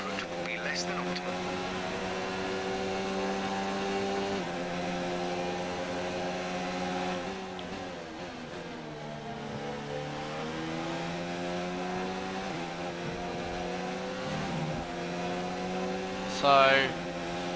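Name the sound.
F1 race car engine, from a video game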